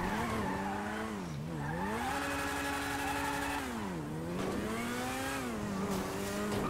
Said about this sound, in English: It's got the bike sound as well.